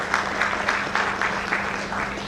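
Audience applause at an awards ceremony, a steady rhythmic patter of clapping hands with a low hum underneath, no voices standing out.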